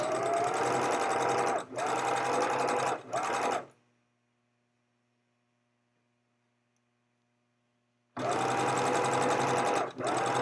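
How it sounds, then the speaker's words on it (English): A sewing machine stitches along a folded fabric edge in bursts, a loud close motor whir with rapid needle clatter, stopping briefly, falling silent for several seconds with only a faint hum, then running again. "And as I sew, I go towards the edge of the folding edge."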